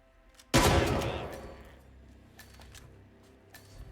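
A single sharp gunshot in the video game Hitman 3, a sudden loud blast that decays over about a second, followed by faint scattered clicks and low room tone.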